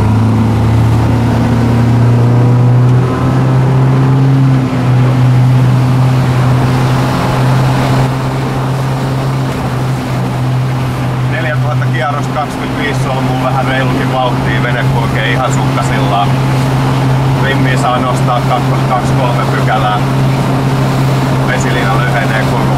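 Yamarin 56 BR motorboat pulling away at full throttle, a loud steady engine drone with water rush and wind throughout, the engine note holding strong as speed builds.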